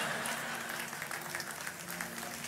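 A congregation claps during a sermon, soft scattered applause from a gathered crowd with a low background hum, fairly faint and short.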